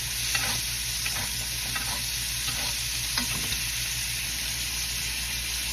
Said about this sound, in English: start taking our oil, our butter, and start basting it